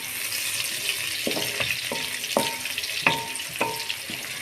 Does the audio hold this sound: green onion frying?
yes